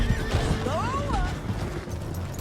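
A horse in the video game Red Dead Redemption 2 whinnies once, a clear rising and falling neigh over soft hoof clip-clops and low background ambience, with voices talking nearby.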